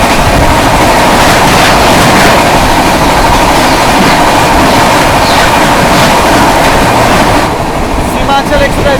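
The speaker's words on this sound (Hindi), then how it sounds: "सामने से आ रही है जोगबनी आनंद विहार सीमांचल" Jogbani–Anand Vihar Seemanchal Express roaring past at close range, a loud, dense rumble and rattle of wagons held steady for the whole stretch before easing slightly near the end.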